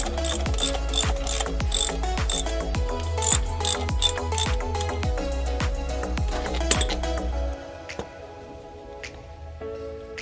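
A hand ratchet working on the starter bolts of a 2007-2012 Nissan, rapid steady clicking of the pawl in repeated bursts, close and loud, stopping near the end with a few faint clinks of metal.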